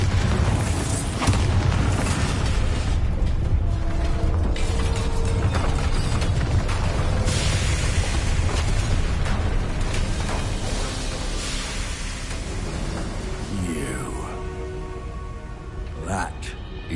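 Bombarda blasting spell in Hogwarts Legacy, a long stretch of heavy explosive booms and rumbling mixed with mechanical clanks and rattles, loud throughout and easing slightly toward the end, with a voice speaking over it.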